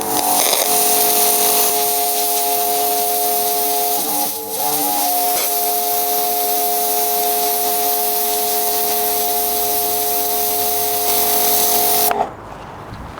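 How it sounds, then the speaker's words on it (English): A V-Tuf V5 pressure washer fitted with a 0-degree nozzle sprays at full pressure, a loud, steady hiss with a constant motor whine running beneath it for about twelve seconds before cutting off. "That is the maximum pressure that this power washer can produce."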